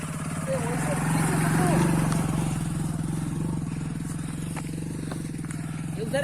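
A motorcycle engine runs with a steady, close, throbbing drone throughout, while people talk over it.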